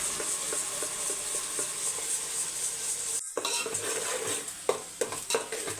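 Ground tomato paste being stirred into onions in a hot pan while cooking mutton biryani, with a steady frying sizzle under regular scraping spatula strokes, close up, and a brief pause partway before the stirring resumes.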